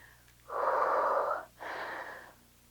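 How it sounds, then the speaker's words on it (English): Two heavy, breathy exhales follow a hard workout, the first long and loud, the second slightly softer, both close to the microphone with a faint hum underneath. "I need a second to catch my breath."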